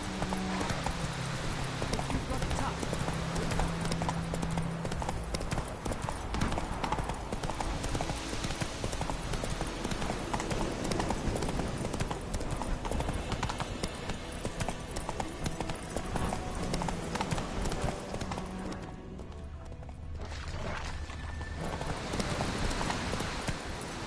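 A horse gallops in The Witcher 3 video game, its hooves clip-clopping in a steady, loud rhythm for the whole stretch over a busy in-game background, with a short dip in intensity near the end.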